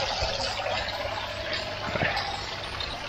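Water spills over the edge of an aquaponics grow bed, a steady close splashing and trickling flow with faint gurgles, heard alone without talk.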